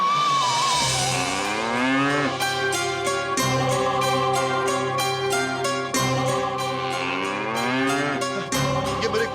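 A bull moos loudly and close, its low cries overlapping continuously across the clip against a busy background of music-like tones, with no clear talk.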